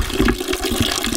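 Water from a 3/4-inch hydraulic ram pump pours into a bucket, a loud, continuous splashing gush close to the microphone.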